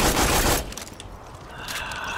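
Gunfire in the Borderlands video game, a dense burst of loud rapid shots at first, then sparser, quieter crackles and mechanical clicks.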